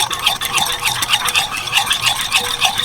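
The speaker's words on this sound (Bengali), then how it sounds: "দইটাকে রেডি করার জন্য একটা বড় পাত্র নিয়েছি এর মধ্যে দিয়ে দিচ্ছি দুশো গ্রাম টক দই দইটাকে একটু ফেটিয়ে নেব" Sour yogurt is whisked in a large bowl, giving quick, rhythmic, close scraping and sloshing strokes that carry on evenly throughout.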